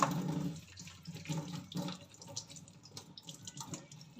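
Tap water runs steadily into a sink while bitter gourd is rinsed under it, a close splashing flow with uneven gurgles and small spatters, alone without talk.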